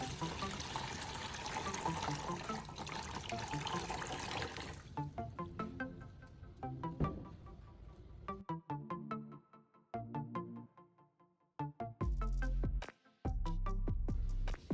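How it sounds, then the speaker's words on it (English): Coca-Cola solution drained from the compartments of a car battery, a continuous pouring and splashing trickle that stops midway, followed by scattered plastic knocks and handling clatter, with louder bursts near the end. "Then, I'm draining the solution from the compartments."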